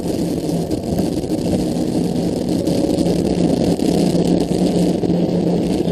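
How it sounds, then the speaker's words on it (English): Falcon 9 rocket engines roar just after liftoff on the Iridium-8 launch, a dense, constant low rumble that stays loud and steady with no letup. "Liftoff of Falcon 9."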